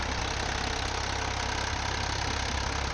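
A Ford 3630 tractor engine runs on a Punjab farm, a steady, close, continuous rumble at idle with an even throb and no voices.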